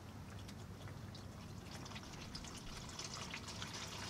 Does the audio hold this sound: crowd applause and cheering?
no